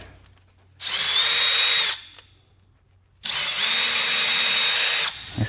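Power drill with a 3/16 bit whirring in two loud, steady bursts of about a second and two seconds, separated by a short silence.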